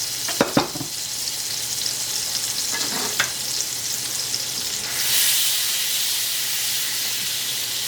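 Butter and extra virgin olive oil sizzling in a warm pan, a continuous close hiss and crackle with a couple of sharp clinks early on and a brief surge of louder spitting midway.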